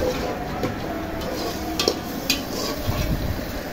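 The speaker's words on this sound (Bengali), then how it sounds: "আমি কিছুক্ষণ পর পর নেড়ে নেড়ে এগুলোকে কষিয়ে নিলাম।" Fish with spices being stirred in a cooking pan: continuous soft scraping and sizzling texture, with a few brief louder clinks of the utensil against the pan, steady and close with no talking.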